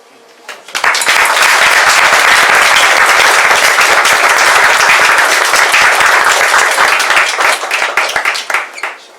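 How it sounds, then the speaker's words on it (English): Loud, close applause breaks out after a poem at an open-mic reading, swelling quickly into dense, vigorous clapping that holds strong before tapering into scattered claps. "We give one more round of applause."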